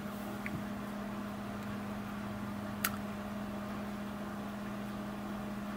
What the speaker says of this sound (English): That noise that you hear running in the background, that's my microwave.